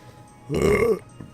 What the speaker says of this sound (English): Oh, gosh, and burp again.